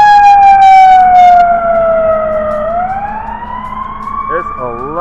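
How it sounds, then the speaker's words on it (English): Several emergency vehicle sirens, fire-truck type among them, wail loudly on a city street, one tone sweeping down and then rising again as they pass, with a second yelping siren cutting in near the end. "there's a lot of sirens going by."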